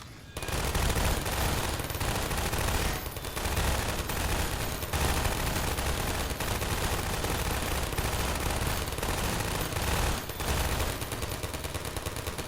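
Automated turrets in a video game fire steadily. A dense, continuous stream of rapid gunfire carries on with only a couple of brief breaks, fairly faint overall and with no voices.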